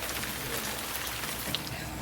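Steady rain falls on a sailboat on the Chesapeake in rough weather, a dense, even hiss of drops with a brief sharper patter near the middle and no talk.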